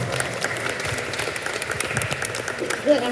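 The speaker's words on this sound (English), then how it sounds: "Give her a round of applause" A round of applause at a district meet-the-candidate event for a woman running for office, uneven clapping from a modest crowd with some voices mixed in beneath it.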